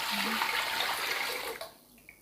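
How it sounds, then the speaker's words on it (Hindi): A jug of water pours into a pressure cooker as a brief, splashy rush of liquid that tapers off into a few faint drips near the end. "ये 1 जग इसमें पानी का डाल दूँगी।"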